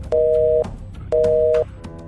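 Two long steady beeps of a phone busy tone after a call is cut, loud and close, with a second's gap between them.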